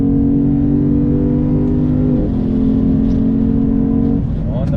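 A 2022 Lexus IS 500 F Sport Performance sedan accelerates hard in manual shift mode, its engine droning loud and close with steady rising tones that step down at two gear changes, under a voice.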